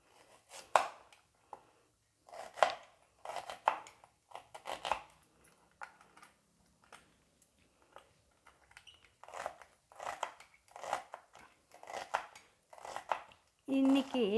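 An onion being sliced with a knife on a cutting board in a home kitchen, a run of crisp, close chopping strokes in short clustered bursts with pauses between them.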